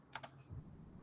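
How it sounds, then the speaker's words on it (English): Two quick, crisp keystrokes on a computer keyboard tap close by, followed by a faint low thud, quiet and isolated without speech. "Now I type here"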